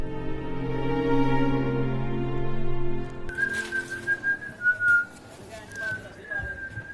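A person whistles a wavering melody up close, the notes sliding and breaking into short trills, with a voice heard briefly in the background.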